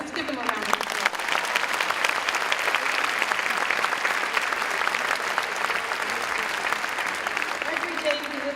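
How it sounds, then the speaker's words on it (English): A graduation audience gives a sustained round of applause at the LACHSA ceremony, dense clapping filling the hall at a steady, full level with faint crowd murmur beneath. "Yes, let's give them a round of applause."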